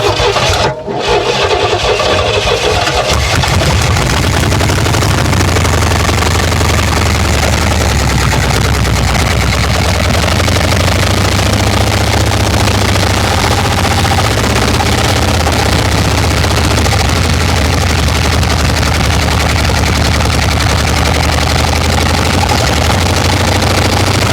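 A 1968 Oldsmobile Toronado V8, revived after sitting for decades, starts and runs roughly on about three cylinders, a loud uneven idle with a lumpy, misfiring rumble that carries on steadily and close up.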